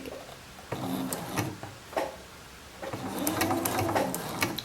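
A domestic sewing machine stitching a shirt runs in short, close bursts of rapid mechanical whirring, pausing between runs before a longer, steadier stretch of stitching at the end.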